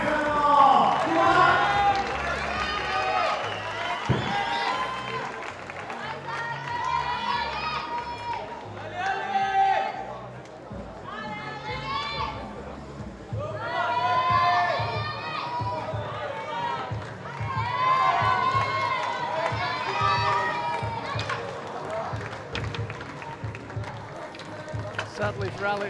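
Spectators at the IFSC Climbing World Championships in Innsbruck, 2018, cheer and applaud climber Alex Kessler during men's lead qualification, a continuous roaring crowd with swelling waves of shouts and an announcer talking over it.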